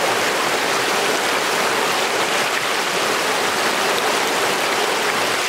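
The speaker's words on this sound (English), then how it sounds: "we're on the Beaverkill River right now" The Beaverkill River rushes in a loud, steady, broadband wash of flowing water, unbroken and close, with no voices.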